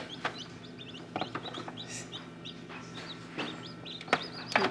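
A brood of baby chicks chirping in a box indoors, many thin repeated peeps overlapping in an uneven flutter over a steady low background hum, no talking.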